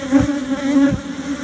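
Agitated honey bees swarm close around an open hive during an inspection, producing a steady, high-pitched buzzing drone that holds throughout without pause.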